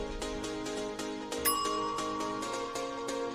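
A single clear bell rings once and hangs briefly over a busy, rhythmic musical background with steady beats.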